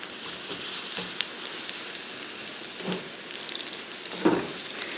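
Spam and an egg frying in a pan give a constant close sizzle with scattered pops and a few soft utensil clicks, no voices over it.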